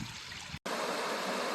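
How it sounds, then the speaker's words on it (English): Rushing water pours steadily at a twin waterfall on a canoe portage in Point Grondine Park, a close, continuous broadband roar cut by one brief dropout before resuming. "This is actually a twin falls."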